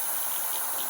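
Fine misting spray of a 90% water and 10% isopropanol mixture from a small spray bottle, a steady close airy hiss lasting about a second.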